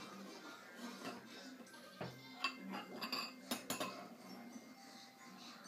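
A spoon stirs Easter eggs in cups of dye, with soft scattered clinks and knocks against the cups, quiet and irregular, while people talk faintly in the background.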